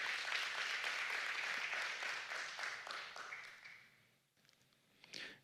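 Church audience applause during a sermon, moderately full clapping from a congregation that thins and fades out over several seconds, ending in near quiet with a few stray sounds.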